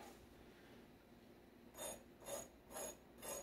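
Four crisp crunches, evenly spaced and fairly close, as someone bites into the crust of a spicy carnivore chicken patty, following a stretch of quiet room tone.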